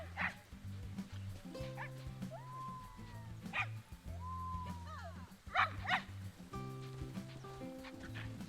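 Pups in the video game Planet Zoo yip and whimper in short, high bursts over steady in-game music, the calls scattered and fairly close.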